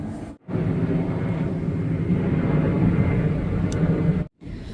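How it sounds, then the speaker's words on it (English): A fixed-wing airplane passes overhead, a loud, steady broadband roar and rumble filling nearly the whole stretch, starting and stopping abruptly with no talk. "I paused the video because of the plane flying over."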